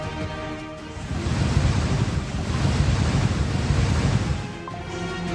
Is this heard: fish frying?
no